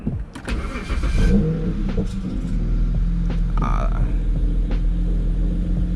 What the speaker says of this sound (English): Even though this is not gonna be a cold start, but I know some of y'all love exhausts.